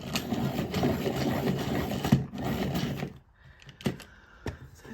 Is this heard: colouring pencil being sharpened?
yes